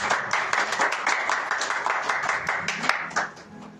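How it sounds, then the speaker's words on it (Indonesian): Church congregation applauding during a worship service at GKKI Penabur Benih in Sukabumi, a steady wash of many hands clapping that carries on before fading toward the end. "Yang percaya beri tepuk tangan yang meriah buat Tuhan."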